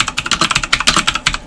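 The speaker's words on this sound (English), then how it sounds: "Let me type this down." Close, loud typing on a computer keyboard, a rapid run of crisp key clicks in an uneven rhythm with no voices over it.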